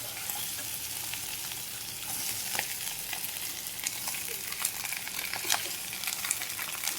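Cooked rice being fried and stirred in a pan, a constant close sizzle punctuated by scraping spatula strokes at irregular intervals, no voices.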